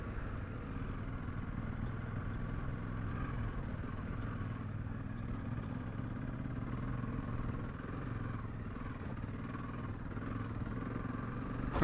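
A Honda CRF dirt bike engine drones steadily and close while the bike rides through soft sand on a mountain pass track, holding a constant rumble throughout.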